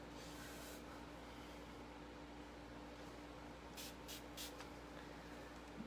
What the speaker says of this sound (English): You guys can hear that sprayer going off.